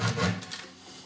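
A hand saw rasps through wood in a short burst of rough strokes that quickly fade, close and unaccompanied by speech.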